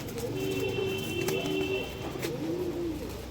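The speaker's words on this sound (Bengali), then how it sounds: "দেখুন বন্ধ লেজের পায়রা দেখুন পুরো বন্ধ লেজ পায়রা" Pakistani high-flyer closed-tail pigeons coo close by in soft, repeated throaty phrases, a steady rolling murmur with a few brief sharper clicks in a quiet setting.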